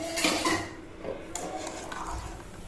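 A spoon stirs fresh coriander leaves into tomato bath in a pan, with metal scraping and clinking against the pan at close range in uneven strokes, and no voices.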